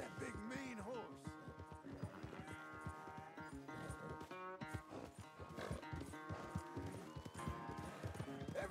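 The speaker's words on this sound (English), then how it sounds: "Where's that big mean horse?" Horse hooves clip-clop steadily beneath loud, dense music and game sounds in Red Dead Redemption 2, with a brief whinny and voices mixed in.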